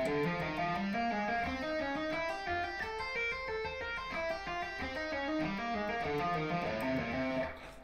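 Electric guitar runs a legato pinky exercise across the strings, a fast continuous stream of smoothly connected notes with a busy, even rhythm, moderately loud and alone.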